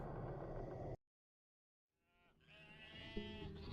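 Sheep bleating in a video game, a few short wavering cries rising near the end, following a brief silent gap.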